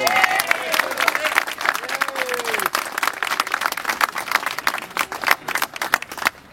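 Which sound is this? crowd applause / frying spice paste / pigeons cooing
crowd applause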